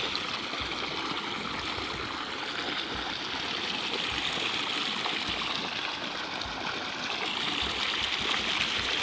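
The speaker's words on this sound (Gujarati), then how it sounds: "મિત્રો આ ધોરીએથી પાણી જાય" Irrigation water flowing through an open channel in an onion field, a continuous close rushing and trickling wash that stays steady and loud throughout, with no voices.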